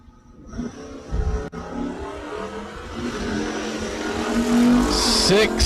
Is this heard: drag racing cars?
yes